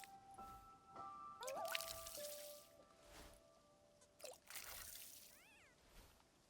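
Watering can pouring water onto plants in the video game Wanderstop, heard as a few soft, light splashing and dripping bursts mixed with chiming game tones, moderately quiet and without speech.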